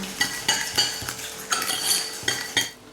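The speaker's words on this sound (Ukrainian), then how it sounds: "Збиваємо. Ну і так, як звичайно, до побіління цієї маси змішуємо." A whisk beats sugar and one egg in a bowl for a Salzburg cheesecake batter, sharp metallic clinks against the bowl coming in quick irregular bursts, close and clear with no voices.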